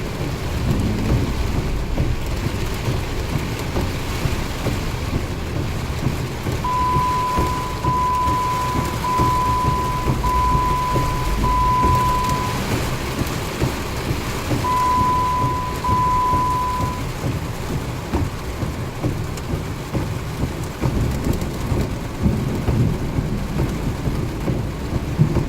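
Steady heavy rain pours throughout a thunderstorm, joined by deep rolling rumbles of thunder, with a constant, dense roar and a faint tone intermittently audible, no voices.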